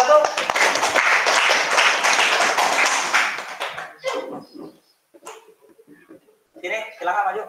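A classroom audience applauds group one at a student presentation, with dense, steady clapping for about four seconds that quickly dies away into scattered voices and brief room noise.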